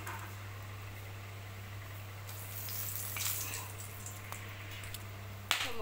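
Bay leaf and whole garam masala, including cinnamon and cloves, hiss softly in hot oil for a fish curry, a quiet, steady sizzle over a constant low hum, with a sharp crackle near the end.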